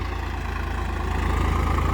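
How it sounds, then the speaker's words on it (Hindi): Swaraj 855 FE and Arjun 605 DI tractors idle together, their diesel engines giving off a steady low throbbing rumble with a regular pulse, close and loud, and no voices over it. "ये एक ही मालिक के ट्रैक्टर हैं, कृष्णपाल सैनी।"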